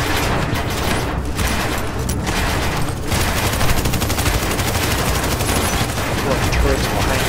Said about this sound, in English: Getting shot through walls, barricades.